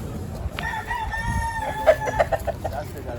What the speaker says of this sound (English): What kind of chickens are these?